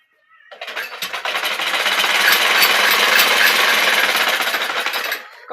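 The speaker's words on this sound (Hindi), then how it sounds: "लिया मशीन, अब हम लगाते हैं सिलाई" A sewing machine stitches clothes in a village home in Pakistan, a loud rapid mechanical rattle that starts, runs steadily for about five seconds, then stops.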